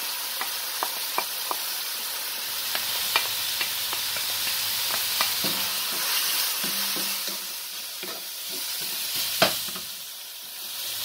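Onions fry in hot oil in a pan with a steady sizzle, while a utensil scrapes and taps the pan in scattered strokes.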